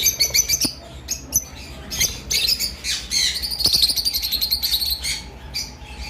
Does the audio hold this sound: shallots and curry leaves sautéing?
no